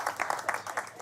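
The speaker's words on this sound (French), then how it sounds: "on l'applaudit bien fort" An audience gives a short burst of applause, with a few individual claps standing out in an uneven patter at moderate volume.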